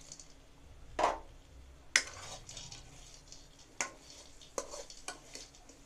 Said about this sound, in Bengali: এখানে সজনে ডাটার সঙ্গে আলুর মশলাটা ভালোই ভাজা হয়ে গেছে